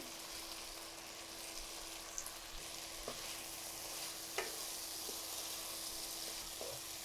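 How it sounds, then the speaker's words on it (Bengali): A large onion and a seeded tomato fry in a pan, making a soft, steady sizzle broken by occasional light scrapes and taps of stirring, with no one speaking. "এখানে একটু বড় দেখে একটা পেঁয়াজ দিয়ে দিলাম, আর একটা টমেটো দিয়ে দিয়েছি"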